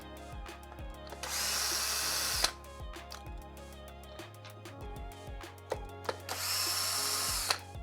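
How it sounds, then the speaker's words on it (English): Cordless power drill backing screws out of an Exway Aux Pack electric skateboard battery during a teardown: two separate whirring runs, each a couple of seconds long, close and loud, with small clicks and handling knocks in between. "I'm going to take off the screws holding the giant rubber pieces on"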